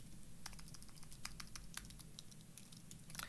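Typing on a computer keyboard during a live coding session: quiet, irregular clusters of close key clicks over a low background hum, with no talk.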